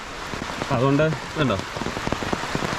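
Steady rain hisses down near Maarikkuthu waterfalls on the Wagamon route, a broad, constant wash with someone speaking briefly over it.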